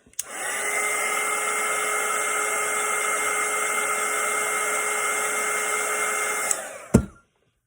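A hair dryer blows steadily for about six seconds to dry a watercolour painting, a loud, close, even whir that starts and stops with sharp clicks.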